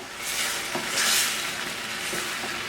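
Liquid bubbling and reducing in a ceramic pan while being stirred for chicken chasseur, a close, steady sizzle with swelling hissy bursts and soft scraping strokes of the utensil.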